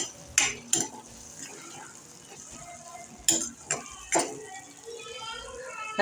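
A spoon stirs peanut bhajiya curry, Patan style, with coriander-cumin and red chilli powder in a pan, giving a few sharp metallic clinks and scrapes over a low, steady sizzle, with faint voices in the background.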